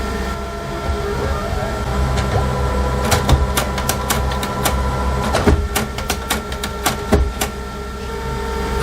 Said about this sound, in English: The printer will initialize.